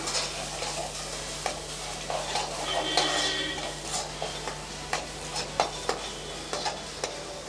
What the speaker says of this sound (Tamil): சேர்த்து நல்லா ஒரு ரெண்டு நிமிஷம் நல்லா வதக்கி விட்டுடலாம்